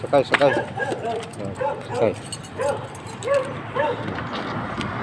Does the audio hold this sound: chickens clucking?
no